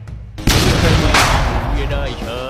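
Loud bursts of video game gunfire and heavy booming blasts, close and rapid, fading into a ringing rumble.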